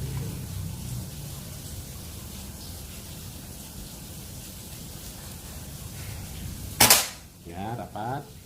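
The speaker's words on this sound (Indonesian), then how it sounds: "Tembakan ketiga" A single sharp crack from a Monel OD 27 mini bullpup PCP air rifle charged to 3500 psi, loud and close over steady rain-like background hiss, followed by a brief rattling echo.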